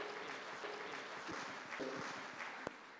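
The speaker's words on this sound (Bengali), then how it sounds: "তাদের জন্য একটা জোরে করতালি।" Quiet, sustained applause fills a sports awards ceremony hall, a soft even patter of many hands heard from a distance, with a few sharper claps standing out near the end.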